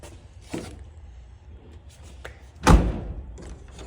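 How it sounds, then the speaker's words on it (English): A door on an old barn-find vehicle with about 170,000 miles slams shut once with a solid, close thud, following a softer knock earlier, with quiet room tone between. "Doors shut up good, don't they?"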